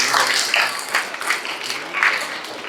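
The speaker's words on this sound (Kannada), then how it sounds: "ನೀವೆಲ್ಲರೂ ಕೂಡ ಜೋರಾಗಿ ಚಪ್ಪಾಳೆಯನ್ನು ಹೊಡೆದು ಅಭಿನಂದನೆಯನ್ನು ಸಲ್ಲಿಸಬೇಕು" Audience at a Kannada government school enrollment drive in Mulbagal clapping in uneven bursts, moderately loud applause that swells and fades several times, with talk mixed faintly underneath.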